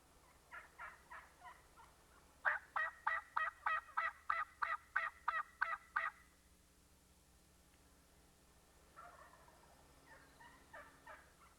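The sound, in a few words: wild turkey toms gobbling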